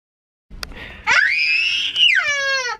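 Child screaming and crying, with a short whimper and then a long, loud, high wail that breaks into a falling, sobbing cry, close and alone.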